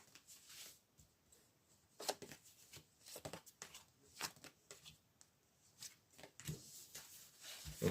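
Tarot cards are shuffled and drawn by hand, making quiet, close, intermittent rustles, riffles and soft taps in a hushed room.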